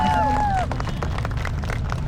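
A large crowd at a political rally applauds for the martyrs and injured of the Gen Z movement, a steady, dense roar of clapping and crowd noise with a whistle-like tone at the start.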